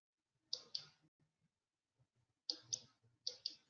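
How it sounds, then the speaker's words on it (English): A computer mouse clicked close by in a quiet room, giving a few crisp pairs of sharp clicks separated by short silences. "Can you put your mouse there and then do your right click?"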